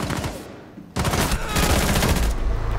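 Gunfire during a Rainbow Six Siege match, a rapid automatic burst that stops briefly and then resumes even louder in a dense, continuous volley, close and harsh.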